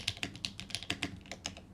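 Crisp, quiet typing on a newly built custom mechanical keyboard, a quick irregular series of about a dozen close clacky keystrokes with no talk.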